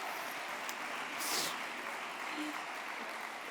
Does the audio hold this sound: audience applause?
yes